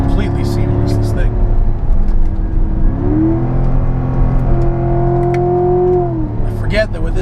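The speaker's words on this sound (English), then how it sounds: "I get just enough of that supercharger whine to make me really, really glad it's got something up there" A Magnuson supercharged C7 Corvette Z51 with about 600 hp revs up and down, the supercharger whine rising and falling in pitch with the engine's loud drone. The engine sound runs under continuous talking inside the car.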